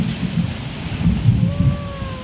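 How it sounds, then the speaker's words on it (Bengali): Sudden rain with thunder at an outdoor spot where fish are being washed for cooking, a steady loud wash of rainfall with low rumbling swells throughout and a couple of faint tonal whines late on. "হঠাৎ করে বৃষ্টি শুরু হয়ে গেল।"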